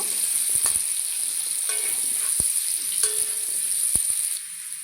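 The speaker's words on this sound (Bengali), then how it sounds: "এই তেলেই আমি আলুগুলো ভেজে নেব দেখুন আলুগুলো দিয়ে দিয়েছি" Potatoes frying in oil in a pan, making a close, steady sizzle with a few sharp utensil clicks scattered through it.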